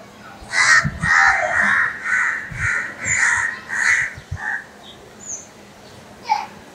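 A crow caught in kite thread at the top of a tree caws loudly and repeatedly in hoarse bursts, close and clear, with a few fainter calls trailing off.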